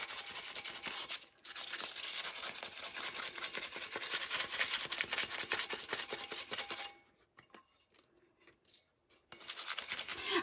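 Dry hand sanding, a loud, close, continuous raspy scrubbing in long strokes, broken by a brief pause, then lighter intermittent rubbing before the steady scratching resumes.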